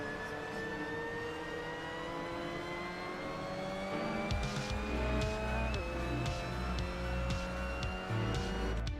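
A Mazda MX-5 Cup race car engine in Assetto Corsa whines steadily in 3rd gear at Valencia, then rhythmic thumps and rumbles kick in as tires roll over bumpy track edges.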